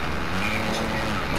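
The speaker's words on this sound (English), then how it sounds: "Yo, I'm actually on a dirt bike." A dirt bike engine in a roleplay video game, droning steadily and continuously at close range with no break across the whole moment.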